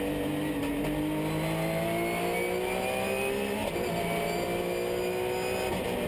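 Porsche 997 RSR race cars at the 24 Hours of Dubai 2010 work through a very tight corner, their engines droning loudly and steadily, pitch shifting with a slight lift midway, with no talk over the sound.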